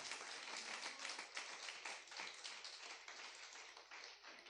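A church congregation claps in quick, uneven bursts, a close, bright patter of hands that swells and thins across several seconds with no talking over it.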